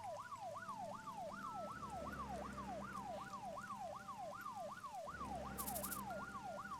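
Ambulance siren in the game Troubleshooter, a rapid rising-and-falling wail repeating steadily for several seconds at moderate distance over a low rumble, briefly broken by a short gap and a sharp burst of noise.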